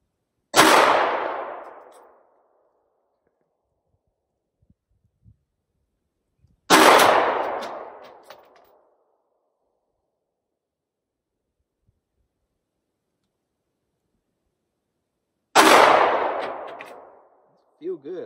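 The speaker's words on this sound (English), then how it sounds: "That round gong right there. That's what we're shooting at." Three single shots from a Glock 43X pistol at a steel gong 100 yards away, each a sharp loud crack with a short decaying ring, spaced several seconds apart with near silence in between.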